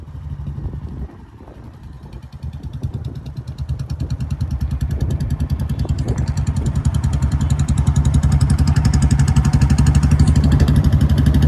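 Royal Enfield Bullet motorcycle engine running steadily, a low thumping idle-to-cruise beat that stays close and grows slightly louder as the bike moves off along a road, with no speech over it.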